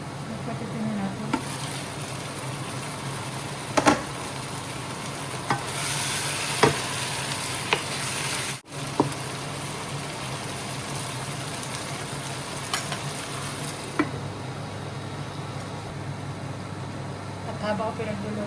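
Arroz caldo ingredients frying in a covered pot, a steady soft sizzle with occasional clinks and stirring knocks, close up, under intermittent speech.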